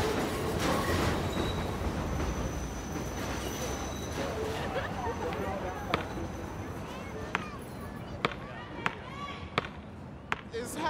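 A subway train rumbles past at close range in a city neighborhood, a steady dense roar with sharp periodic clacks of wheels over rail joints toward the end, while people talk underneath.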